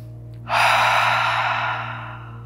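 A single big cleansing breath closing an evening yoga stretch, a long, loud airy exhale through the mouth rushing out close to the mic and slowly fading.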